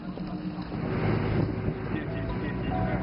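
A motorboat crossing a river toward Jiangdao island, a constant engine drone mixed with wind buffeting the microphone, with a voice speaking over the noise.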